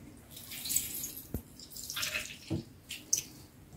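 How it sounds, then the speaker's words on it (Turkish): Flaxseed gel being strained by hand at home, with soft wet trickling, sporadic drips and slippery squelches, faint and close with brief pauses between them. "Böyle süzdürüyorum."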